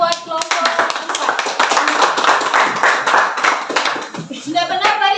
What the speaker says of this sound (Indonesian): Kita beri aplaus buat kelompok 4